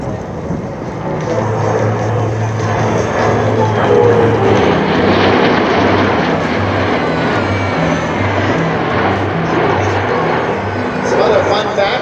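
A USAF C-17 jet roars by in a high-speed pass at the 2023 Abbotsford air show, a loud, sustained broadband rumble that swells and fades slightly, with a steady low drone and a voice talking over it.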